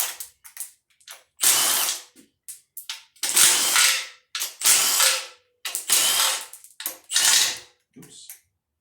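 A ratchet wrench backing out oil pan bolts on an Allis-Chalmers D17 tractor, loud close bursts of rapid clicking ratchet strokes separated by short pauses and a few single clicks.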